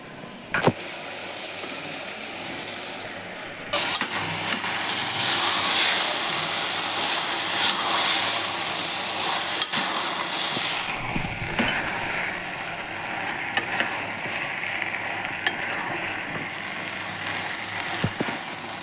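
Chopped ivy gourd and tomato fry together in a pan while being stirred, making a steady sizzling hiss with occasional scraping knocks that swells louder through the middle before settling back.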